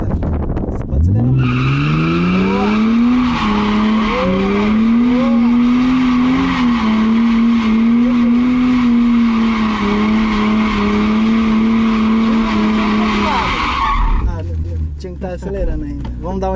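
A car does donuts from a standstill with the wheel already turned, giving a long, loud tire squeal that rises and then holds steady for about twelve seconds over a revving engine before cutting off.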